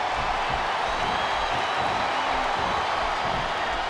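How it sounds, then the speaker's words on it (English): Dense, continuous crowd roar and cheering in the arena of the WWE SmackDown vs Raw 2007 video game during a three-way WrestleMania 22 match, loud and unbroken throughout. "Listen to the crowd, JR."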